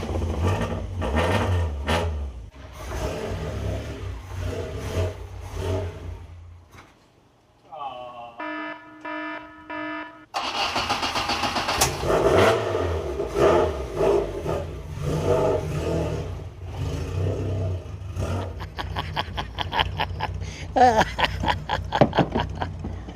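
A Ford Escort Mk2 that has been stored with its battery disconnected is started and revved, its engine rising over a chime and a buzzing warning tone, while a voice talks partway through.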